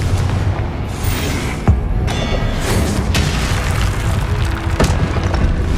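Spell explosions from Confringo in the video game Hogwarts Legacy on PS5 boom out as repeated heavy blasts over a rumbling, mechanical game soundscape, loud and close with no talk.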